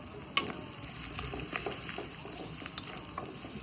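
Peanuts with onion and chilli frying in oil in a pan make a soft, continuous sizzle with small crackles and pops, faint and fairly close.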